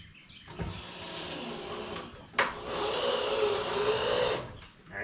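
Screws being driven into a heavy-duty workshop table with a power drill: a short motor whir, a sharp knock, then a long, steady, strained drilling whine that winds down, close and loud with no talking.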